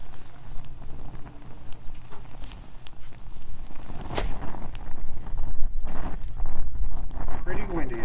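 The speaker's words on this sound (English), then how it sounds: "Pretty windy out here today." Gusty wind buffets the microphone outdoors beside a UCO Flatpack mini grill and firepit being lit with wood, a steady low rumble with louder surges toward the end, plus a few light knocks and rustles.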